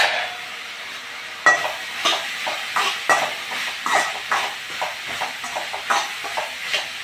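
Eggplant sautés in a covered pan for a tamarind curry: a low background sizzle broken by repeated close clinks and scrapes of a utensil against the pan, in an uneven rhythm.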